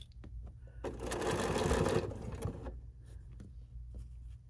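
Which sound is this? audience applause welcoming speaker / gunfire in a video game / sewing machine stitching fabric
sewing machine stitching fabric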